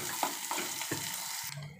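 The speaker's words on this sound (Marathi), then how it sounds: "कांदा मऊसर होईपर्यंत आपण असं परतून घेणार आहोत।" Onion sautéing in a pan for Malvani-style goat liver, a steady close sizzle with a few soft stirring scrapes over a brief stretch.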